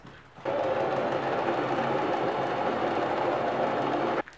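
A sewing machine stitches a seam on stretchy leggings with one continuous, close motor whir lasting several seconds, starting and stopping abruptly.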